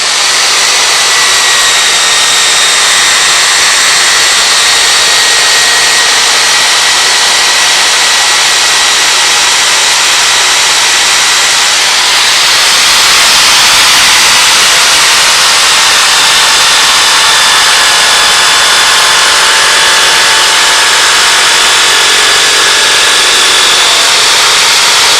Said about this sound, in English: give it a quick buff with my buffing wheel in the drill